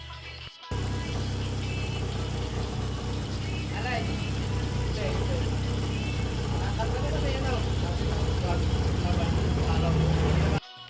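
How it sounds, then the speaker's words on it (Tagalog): A Honda Accord engine runs steadily after a fuel pump replacement, giving a continuous close idle hum for about ten seconds while people talk nearby. "umandar na yung makina"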